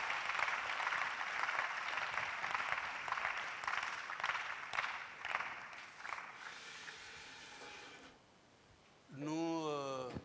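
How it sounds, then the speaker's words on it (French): A church congregation clapping in praise, a dense, steady wash of many hands applauding together that thins out, followed by a voice rising in song at the end. "And we clap for him to the Lord."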